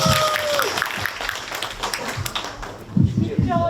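Crowd claps for team seven's presentation at a Korean citizens' forum on household waste and incineration facilities, a dense round of applause that continues throughout as a voice speaks over it.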